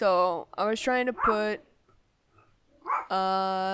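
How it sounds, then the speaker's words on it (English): A pet dog barks in short bursts in a home, close and loud, interleaved with a person talking over it. "I'm sorry about my dog barking"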